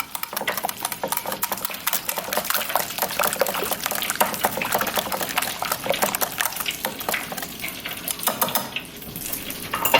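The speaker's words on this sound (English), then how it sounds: "You want to make sure you get everything nice and combined together for that nice batter dip." Batter for fried chicken being whisked in a bowl, a steady close run of wet stirring and scraping that carries through the whole stretch with no talk.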